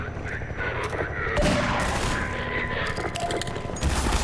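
Dense bursts of gunfire from a video game rattle almost continuously, loud and close, with booms and mechanical clatter mixed in.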